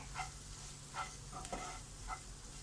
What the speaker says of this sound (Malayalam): ഈ പൊടികളൊക്കെ ഒന്ന് ഫ്രൈ ആവട്ടെ